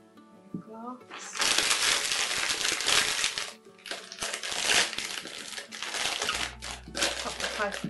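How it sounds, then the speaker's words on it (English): A plastic bag crinkles loudly as it is pulled over a glass to make an icing piping bag, a dense continuous rustle with brief pauses, up close. "Pop the plastic bag over it."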